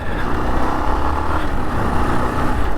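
A 1983 Honda TLR 200 motorcycle running through its gears, heard as a loud, close, continuous engine drone with no voices over it.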